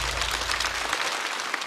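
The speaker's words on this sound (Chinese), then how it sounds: "再次掌声送给孟川" A studio audience at a stand-up comedy show applauds for the comedian Meng Chuan, a dense, even wash of clapping that stays loud and steady throughout.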